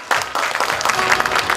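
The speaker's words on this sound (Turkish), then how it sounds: "alkışlarla sahneye davet ediyorum" An audience at a film screening in Malatya applauds as the director is welcomed on stage, a brief burst of dense, close clapping from a crowd.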